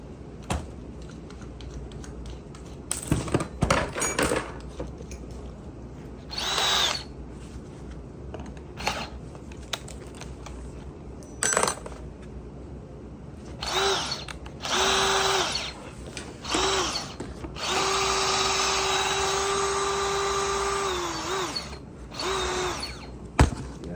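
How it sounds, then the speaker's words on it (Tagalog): A power drill drives screws while a coconut grater is assembled, giving repeated short whirring bursts and one long sustained run near the end, with clicks and handling knocks between them. "Siyempre, tornilyo natin to."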